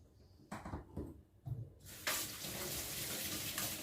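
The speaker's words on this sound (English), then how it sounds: "wash my hands." Water runs from a kitchen tap while hands are washed, starting as splashy bursts and settling into a steady, fairly loud stream.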